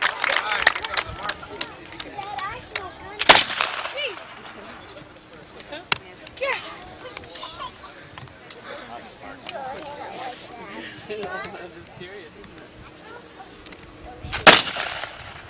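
Cannon fire at a Fort Ticonderoga reenactment: two loud, sharp booms spaced about eleven seconds apart, the first near the start and the second near the end, with crowd murmur and talk in between.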